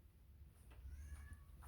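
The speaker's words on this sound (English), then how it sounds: "You hear the cat?" A cat meows a few times outdoors, faint and somewhat distant, with short rising cries over low rumbling background noise.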